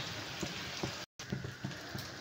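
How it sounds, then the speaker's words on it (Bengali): Potatoes sizzling as they fry in hot oil for biryani, a steady close crackle and bubbling hiss with a brief cut of silence partway through. "তার আলুগুলো আমি একটু লাল লাল করে ভেজে তুলে নেব।"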